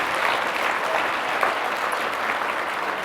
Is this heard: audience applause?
yes